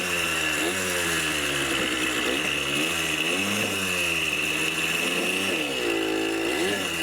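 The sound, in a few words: engine of a 50-year-old dirt bike running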